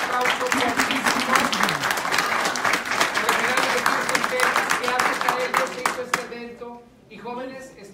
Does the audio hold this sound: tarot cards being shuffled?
no